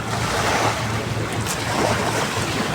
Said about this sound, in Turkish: Hemen denizin kıyısında.